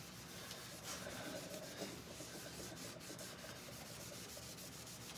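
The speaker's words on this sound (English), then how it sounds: "Now I'm going to get my board eraser, and I'm going to use this to get the rest of that paste off." A board eraser rubs leftover paste off a surface, giving a steady dry scrubbing rasp that continues close and evenly throughout without talk.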